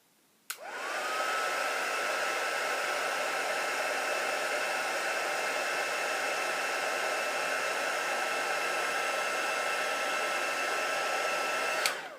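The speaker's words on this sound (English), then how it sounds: "And then we're going to heat emboss it and watch the color." Heat embossing tool blowing a steady, even rush of hot air, switching on abruptly and running unbroken at moderate loudness before clicking off at the end.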